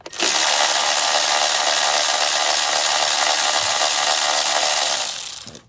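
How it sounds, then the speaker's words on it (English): An 8mm coil hold-down bolt being removed on a Ford F-150's 5.0L Coyote V8 during a spark plug change, a steady, loud, continuous grinding whir like a power driver running for about five seconds with no speech. "you're going to remove your 8mm hold down bolt"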